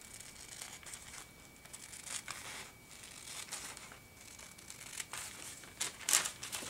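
Scissors cut through tracing paper in quiet, crisp snips and crinkles, close and soft, with a sharper rustle near the end.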